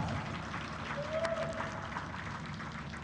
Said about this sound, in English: Please give us an applause for that.